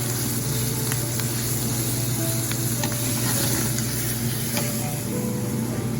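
Shrimp sizzle hard in a hot pan for scampi fra diavolo, a dense, loud, continuous frying hiss with faint scrapes of stirring, close and with no speech.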